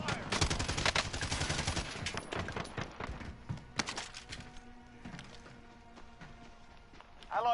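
Rapid gunfire in Call of Duty Warzone, a dense near automatic burst that thins into scattered shots and game effects, with a player talking over it.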